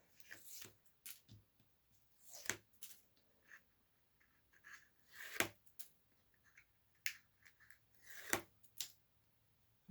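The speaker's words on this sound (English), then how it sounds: "So now I'm going to go ahead and remove these tape backings" Tape backings are peeled off a mini album page in short, crisp tearing and crinkling bursts, about a dozen scattered quick rips at close range in a quiet room.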